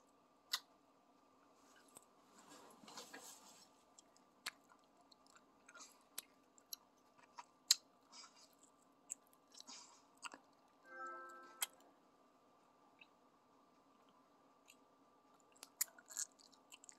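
Dollar store gum candy is chewed close up in soft, wet smacks and occasional crisp clicks, irregular and quiet against a faint steady background hum.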